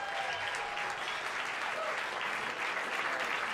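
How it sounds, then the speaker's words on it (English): Audience applause for the pianist at a live jazz show in a club, steady dense clapping with a few cheers, loud and continuous throughout. "Let's hear it for Emmet Cohen on the piano"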